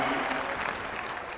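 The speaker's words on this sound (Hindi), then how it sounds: "जोरदार तालियां हो जाए." A large crowd claps loudly and continuously at a government land-title distribution event in Karnataka, a dense, even wash of applause throughout.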